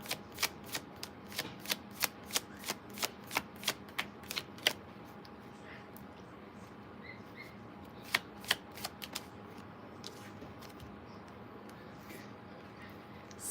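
Tarot cards being shuffled and drawn for a reading: a fast run of crisp riffling snaps in the first few seconds, then a pause and a few more isolated card slaps, close and fairly quiet over a soft room hum.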